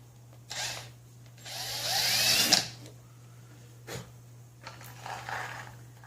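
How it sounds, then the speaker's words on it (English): A small drill whirs in short bursts while drilling a small screw hole for a vintage electric car's charging inlet, one longer run in the middle, then brief touches, with a steady low hum underneath. "Alright, let's drill a little hole."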